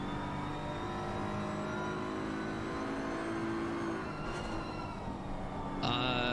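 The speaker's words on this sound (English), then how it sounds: "keeping it really low revs through the snake section" A race car engine hums at steady, low revs in a sim racing game during an endurance race at Suzuka, a loud continuous drone that rises into a sharper rev near the end.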